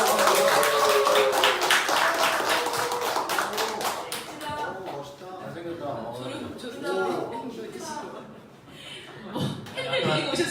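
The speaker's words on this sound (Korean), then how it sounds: "박수로 한번 모셔보도록 하겠습니다." An audience at a book talk claps to welcome a guest, a burst of clapping in the first half that thins out as chuckles, laughter and a host's talk take over.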